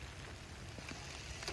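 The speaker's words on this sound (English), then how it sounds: "It's pouring rain." Heavy rain pours down outdoors around a golf cart stuck in the wet, a steady dense hiss with faint scattered drops, close and continuous throughout.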